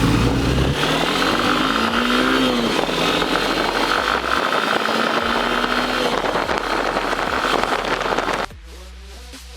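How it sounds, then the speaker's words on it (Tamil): A Hero Xtreme 160R BS6 motorcycle accelerating from 0 to 60 on a ride, its loud engine rising steadily in pitch through the gears with a buzzing exhaust, then dropping away abruptly near the end. "இந்த பைக் 0 to 60 எவ்வளவு செகண்ட்ல அட்டைன் பண்ணுதுன்னு பார்க்கலாம் வாங்க."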